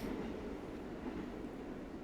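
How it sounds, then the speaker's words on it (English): A train rumbles past outside in a steady, broad roar that stays loud and even throughout, with no talking over it. "That's the train in the other direction."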